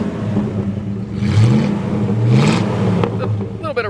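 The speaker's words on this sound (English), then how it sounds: "I'll show you what it sounds like back here with the dual exhaust." A 1972 Oldsmobile Cutlass Supreme engine revs up twice through a dual exhaust, a deep rumbling roar swelling and falling, close and loud with a steady idle underneath.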